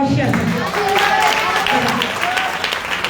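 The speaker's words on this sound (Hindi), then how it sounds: "ताली बजाओ" Congregation at a live prayer and healing sermon clapping hands together, a dense steady patter of applause running throughout with a voice carrying over it.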